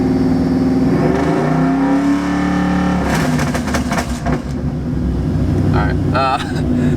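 A car engine fitted with a new wideband gauge revs hard under throttle, loud and close, the pitch climbing and sweeping through several surges, with someone talking over it.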